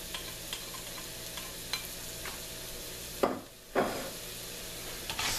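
Vegetables and garlic sizzle in a hot pan, a steady close frying hiss broken by soft stirring scrapes and a short dip before the sizzle surges back, with no voices.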